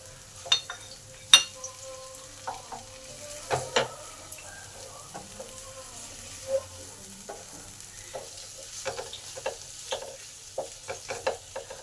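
Spiced masala with tomato sizzles steadily in a pan for an Alu Potol korma, while a spatula scrapes and taps it again and again in irregular bursts, close and clear with no talking.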